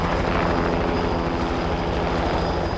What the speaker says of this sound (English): They sent a helicopter to pick up one dying British soldier.